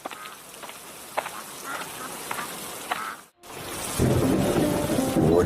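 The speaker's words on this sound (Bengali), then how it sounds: "কি জোরে বৃষ্টি নামছে!" Heavy rain rendered as a cartoon sound effect, a dense hiss of downpour that cuts out briefly and then returns louder with a deep rumble of thunder underneath.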